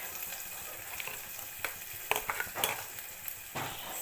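A pot of drumstick leaf (moringa) curry bubbles and sizzles quietly, broken by a few sharp clinks and scrapes of stirring, heard close up with no voices.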